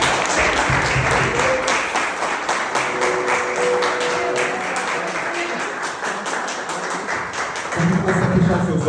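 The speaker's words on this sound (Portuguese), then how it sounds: "Pode aplaudir o Senhor Jesus para Deus." Congregation applause fills a church, a close, dense patter of many hands clapping continuously, with a sustained tone and murmuring voices underneath.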